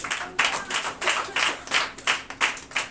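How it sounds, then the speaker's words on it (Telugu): A church congregation claps during a Telugu Sunday service, a steady group of rhythmic handclaps in repeated bursts, close and fairly loud with no talking. "చప్పట్లు కొట్టి ప్రభు."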